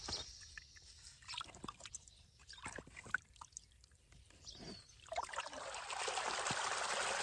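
Irrigation water runs from a freshly opened plug into a farm channel, soft trickling and dripping at first, then a fuller, steady rush of flowing water rising in the last couple of seconds; quiet overall.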